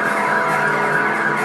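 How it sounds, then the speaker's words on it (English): A steady, loud wash of traffic and engine roar in the driving game Driver: San Francisco, with a police siren blended into the dense continuous noise and no clear pauses. "They ignore the police sirens."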